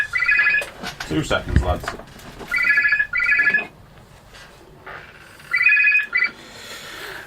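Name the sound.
telephone ringing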